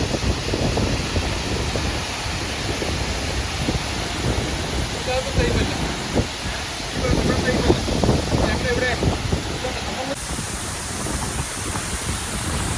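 Spray from Olinjirikunna waterfall and gusting wind form a loud, constant broadband roar with heavy wind buffeting on the microphone throughout.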